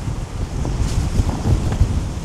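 Strong wind buffets the microphone at a campsite, a dense, loud rumbling roar with gusty bursts and no voices.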